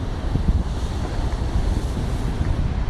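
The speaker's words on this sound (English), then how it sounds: "Getting buffeted by the wind." Strong wind buffets the microphone while waves wash against a rock wall on fairly deep water at the end of a jetty, a constant loud roar and rumble with no talking.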